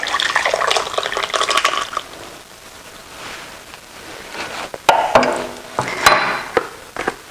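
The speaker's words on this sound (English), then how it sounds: "Pour it into our bowl." Butternut squash soup pours and splashes into a small bowl in a couple of bursts, with a quieter stretch between and small clinks near the end.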